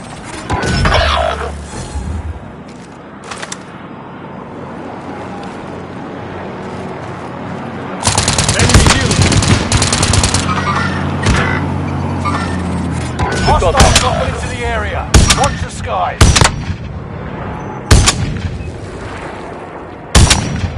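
Heavy gunfire in an online military shooter game, with dense overlapping bursts and booms that build from about eight seconds onward, loud and sustained, with sharp sporadic blasts and faint game voices mixed in.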